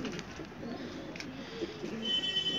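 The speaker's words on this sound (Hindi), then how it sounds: "ये हैं गोल्डन जो पाकिस्तानी कबूतर होते हैं" Soft cooing of pale Kasni pigeons and golden Pakistani pigeons kept for sale, a low murmur heard close among steady background noise, with faint voices nearby.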